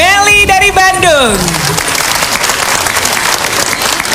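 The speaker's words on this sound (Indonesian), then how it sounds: "tepuk tangan yang sangat meriah untuk Meli dari Bandung." A studio audience on a TV talent show applauds Meli from Bandung, loud dense clapping that swells in under a brief burst of music and singing, then carries on steadily on its own.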